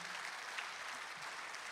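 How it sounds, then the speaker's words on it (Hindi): A seated audience at a poetry event claps in a brief, dense burst of applause welcoming a poet, steady and moderately distant with no voices over it. "एक बार अगवानी में जोरदार तालियां बजा दीजिएगा"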